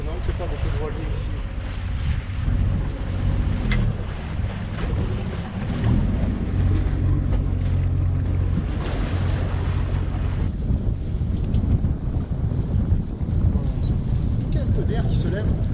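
A sailboat under way and tacking in a breeze gives a continuous rush of wind buffeting the microphone over water and hull noise, with faint voices in the background.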